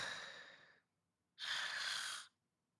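A voice imitates sleep apnea breathing: two harsh, breathy gasps for air, close and fairly loud, separated by a short silence, the second burst stronger and fuller.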